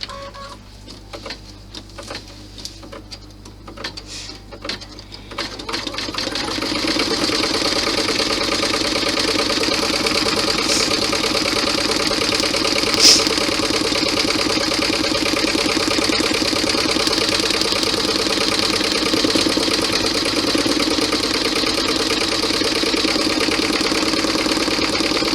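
Sewing machine stitching the pocket placement on a cross-body messenger bag; a few starts and stops, then a steady, continuous mechanical whir that runs close and loud for the rest of the stretch.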